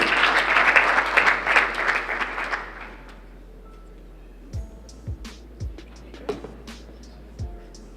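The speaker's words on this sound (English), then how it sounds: "A round of applause as he's joining us on stage, ladies and gentlemen" Audience applause at the Capital Market University Challenge 2018 awarding ceremony, a loud dense burst of clapping for about three seconds that fades out, followed by a quieter room with scattered thumps and small noises.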